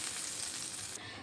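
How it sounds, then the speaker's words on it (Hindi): Hot tadka (tempering) poured over gola kadhi sets off a loud, steady sizzle and crackle of frying that stays close and fills the whole moment, then thins slightly near the end, with no talking. "ये जो तड़का हमने बना के रखा है बस इसको हमको इस पे डाल देना है"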